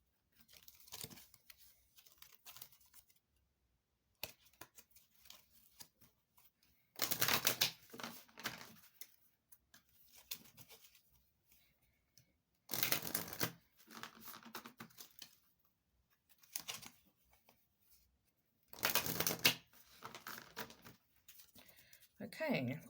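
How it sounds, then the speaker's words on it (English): Several short bursts of rapid papery riffling as a deck of cards is shuffled come at intervals with quieter gaps between them. "Just give it a quick shuffle."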